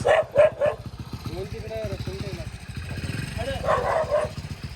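A dog barks a few times in short bursts at the start and again near the end, with a low engine rumble and a voice in between.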